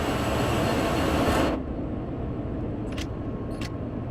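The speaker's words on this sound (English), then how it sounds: "here comes another Loco" Simulated locomotive passing in Train Sim World 3, a loud broadband rumble and roar that cuts off sharply partway, leaving a steady lower rolling drone with brief squeals.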